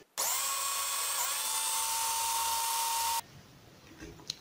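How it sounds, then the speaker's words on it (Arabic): A Moulinex electric blender grinds potatoes in one loud, steady high-pitched whir lasting about three seconds, then cuts off abruptly, leaving faint clatter. "بالنسبه للكاس ديال مولينيكس انا كعمر معي في هذه المرحله، لهذا اضطريت نقص منه شي حاجه باش تطحن معي البطاطا"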